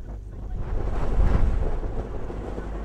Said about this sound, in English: Very strong headwind producing some choppy water out here on Lake Carnegie.